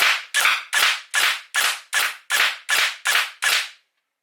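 A camo gel blaster firing gel balls on semi-auto through a chronograph with a tight 7.1mm barrel: ten sharp, evenly spaced loud cracks at a brisk rhythm, then silence.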